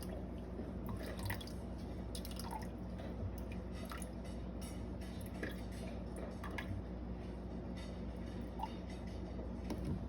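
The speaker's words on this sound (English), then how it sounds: "So we're going to put 120 of water." Water is poured into sourdough starter, a continuous quiet liquid stream with small drips and squishy wet sounds, close and steady for about ten seconds with no talking.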